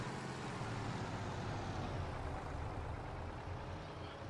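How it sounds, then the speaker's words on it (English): A truck engine in Farming Simulator 22 drones steadily at close range, a low rumble with broadband road noise that holds at even loudness throughout, with no voices over it. "let's drive this truck"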